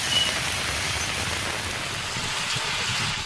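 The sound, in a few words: heavy rain falling at night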